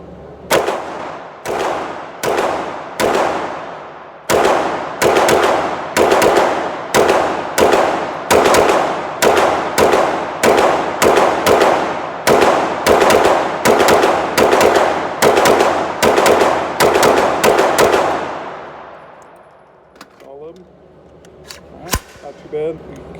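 Gunfire from a Tiger Rock 9mm upper fed from a KCI magazine: a long string of loud, sharp shots at a steady, slightly uneven pace, close by, ending in quiet with faint handling noises.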